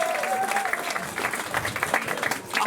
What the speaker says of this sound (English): Give him a round of applause as he makes his way to the front.